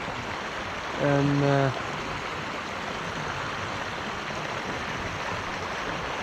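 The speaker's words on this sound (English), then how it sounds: "God, that's a torrent of water, isn't it?" Floodwater after heavy rain tears under a bridge in a steady, loud, unbroken roar, with a brief voice speaking over it near the start.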